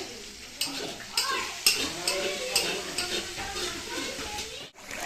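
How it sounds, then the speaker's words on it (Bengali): A large batch of chicken sautés in a pan, its steady sizzle broken by repeated rhythmic scrapes and clinks of a spoon stirring against the metal. "চিকেনটা দেখো বসিয়েও দিয়েছি চিকেনটা কষানো হচ্ছে"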